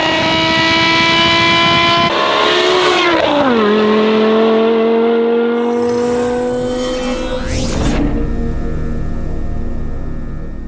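A BMW E60 M5 with the S85 V10 and a Valvetronic Designs valved exhaust on stock headers revs loudly and up close, its pitch climbing and falling, then snapping sharply upward toward the end.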